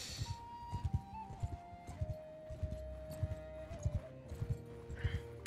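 A horse in the Mount & Blade II: Bannerlord video game clip-clops in a steady rhythmic gallop of hoofbeats, with a neigh near the start and a faint tonal music line running underneath.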